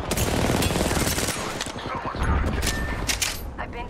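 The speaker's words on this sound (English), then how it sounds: "Taking fire." Rapid video-game gunfire in a fast shooter match, dense bursts of shots crackling almost nonstop over loud game effects, with a player's voice talking through it.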